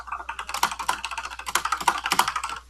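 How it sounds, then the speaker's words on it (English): Rapid typing on a computer keyboard, a dense, fast stream of close, crisp key clicks with no pauses, loud and alone with no talk. "Who is typing that fast?"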